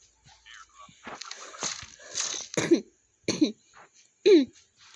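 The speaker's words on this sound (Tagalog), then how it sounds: "hanggang ngayon di pa nawawala yung ubo ko" Several harsh coughs and throat clears from a person with a lingering cough, close and fairly loud, coming in separate bursts with short pauses between them.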